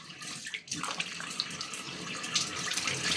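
Tap water runs steadily into a sink as a face pack is washed off, with faint splashing from hands in the stream throughout.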